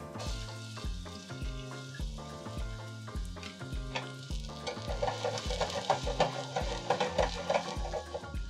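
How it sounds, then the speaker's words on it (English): Food sizzling and frying in a pan on a stovetop, with a steady crackle that grows busier and louder toward the end, close and without talk, over a rhythmic background pattern. "Let that sizzle for a minute."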